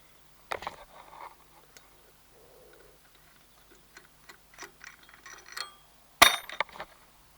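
Work on a Volvo V50 front suspension: a bolt being removed and a part pried loose, heard as scattered metallic clinks and taps, with one sharp loud knock near the end amid quieter clatter.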